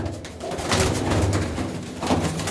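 Pigeons coo close by in soft, repeated low calls over a busy outdoor background.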